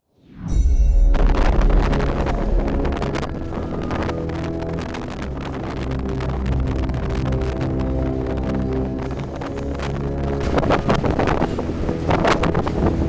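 Strong, cold wind on the summit of Bluff Knoll in wet, snowy weather roars and buffets the microphone. It sets in suddenly and then keeps up a loud, steady rush with gusty surges, and no one speaks.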